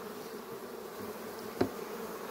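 Honeybees on full brood nests in a low-frame hive buzz in a continuous, steady drone, fairly faint and close, with no voices.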